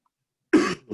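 A single sharp cough, close and fairly loud, after silence, followed by a brief start of another sound.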